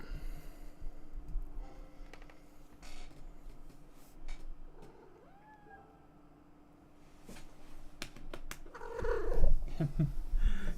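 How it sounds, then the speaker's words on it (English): Wet house cat purring on a desk, a low steady purr close by with faint rustling, a brief trilling chirp midway and a louder snort-like burst near the end. "Cat on the desk."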